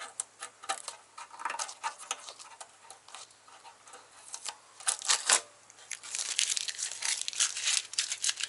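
Masking tape is peeled off bondo filler in a VW MK2 engine bay, giving close, crackling tearing and crinkling bursts with short pauses between pulls.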